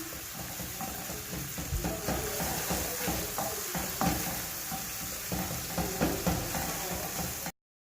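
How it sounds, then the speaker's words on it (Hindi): Khoya frying in a pan for a sweet dish, a steady close sizzle with stirring scrapes and small clatters running evenly throughout, no voices. "अब इसमें ऐड कर दूँगी और इसको अच्छी तरह फ्राई करूँगी"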